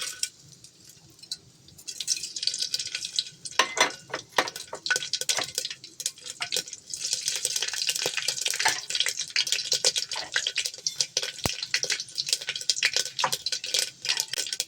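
Mustard seeds splutter in hot gingelly oil with rapid, irregular crackling pops that grow denser and keep up steadily, close and fairly loud, with no talk.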